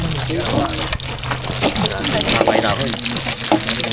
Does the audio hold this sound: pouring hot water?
yes